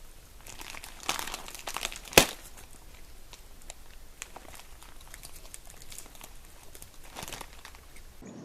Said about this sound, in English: And now he finally makes the grab for the popcorn bag after kind of casing the situation for more than 6 hours.